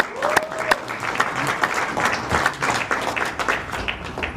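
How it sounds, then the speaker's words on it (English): Clapping for graduates at a university graduation ceremony in Kenya, a crowd's applause with sharp individual claps over a steady background, slightly distant and reverberant, with a faint voice at the start. "we clap for them."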